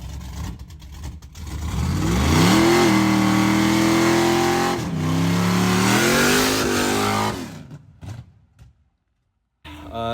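A 1986 Pontiac Firebird with a 383 Chevy engine, 11.5:1 compression and a 262 cam revs hard and loud, pitch climbing and holding in two long pulls before dropping off to near silence.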